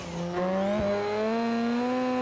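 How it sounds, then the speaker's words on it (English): A turbocharged car engine in a racing video game gives off a high, rising whistle-squeal over a steady engine tone, close and loud, briefly broken by a thump. "that turbo is frickin' squealing"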